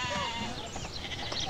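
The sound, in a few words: sheep bleating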